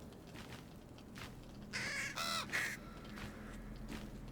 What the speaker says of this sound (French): c'est un corbeau blanc